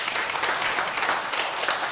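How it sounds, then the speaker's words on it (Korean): Audience applause at a Korean Buddhist meditation lecture, dense and steady clapping from a crowd filling the room for two seconds, with no talking. "박수 한번 치세요."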